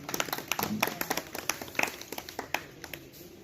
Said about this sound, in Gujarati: આપણે તાળીઓથી વધાવશું એમને।